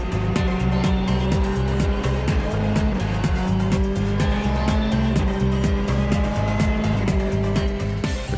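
Volkswagen Polo R WRC rally car on dry ground at full engine power, heard loud and close from the cockpit, with a constant engine roar and repeated rapid gear-shift steps as revs climb and drop.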